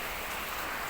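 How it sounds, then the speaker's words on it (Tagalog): Steady hiss of rain falling, an even wash of drops close by, brief and without voices. "Umuulan."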